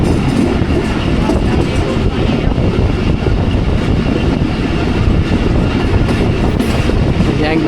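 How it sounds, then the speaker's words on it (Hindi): The Awam Express train rolls past Ghungrila railway station with a loud, steady roar and continuous clickety-clack of wheels on track, heard close from on board, with a faint squeal now and then. "घुंगरीला रेलवे स्टेशन से ट्रेन हमारी पास हो रही है।"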